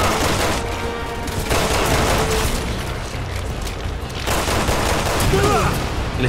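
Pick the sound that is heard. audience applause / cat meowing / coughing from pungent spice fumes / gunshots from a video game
gunshots from a video game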